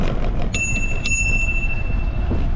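A bicycle bell on a new bike in a Vietnamese village rings twice in quick succession, each bright ding lingering, heard close over steady riding and road rumble.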